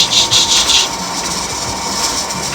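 Close, continuous hissing and rattling from the jiggling weight on a pressure canner processing ground beef at 10 pounds of pressure, with a quick rhythmic pulsing early on and no talking.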